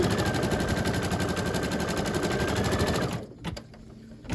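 An embroidery machine stitching the white placement line for a doll's face runs in a loud, rapid, steady mechanical chatter for about three seconds, then stops, leaving a few faint clicks and handling sounds.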